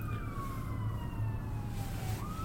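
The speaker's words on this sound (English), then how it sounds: "I've had lots of sirens in the background." Emergency vehicle sirens wail steadily in the background, a faint rising and falling tone over low traffic rumble, continuous throughout with no speech.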